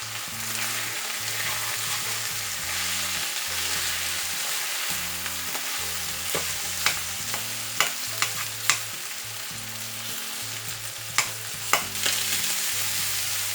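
Food stirred in a hot pan on a stove set to medium-high, with a steady sizzle under rhythmic stirring and a few sharp utensil clicks against the pan.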